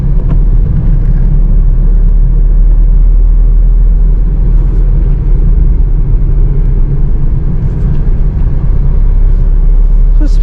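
A Maruti Alto K10 car is driven along, heard from inside as a steady, loud low engine and road rumble that stays even from start to finish.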